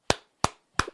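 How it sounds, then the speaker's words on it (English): Three crisp, loud hand claps, evenly spaced and close up, each ringing out briefly before the next. "Give you a few claps here."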